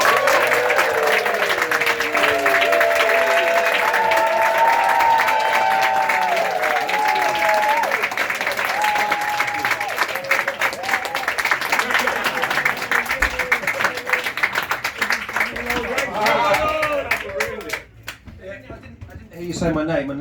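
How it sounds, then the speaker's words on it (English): Comedy club audience at Camden Comedy Club giving a big round of applause for the final act, loud dense clapping that gradually thins, fading to scattered claps near the end, with voices and murmurs mixed in. "let's have a nice big round of applause"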